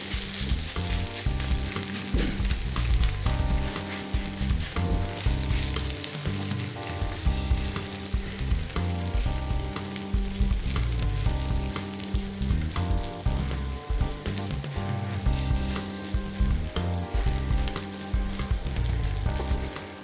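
Grated potato for a paillasson frying in a pan, a loud, dense, continuous sizzle and crackle close by, with no one talking.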